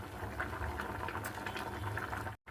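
Mango and jaggery syrup with a pinch of salt bubbles softly in a pot, a faint continuous simmering burble heard close with no talk.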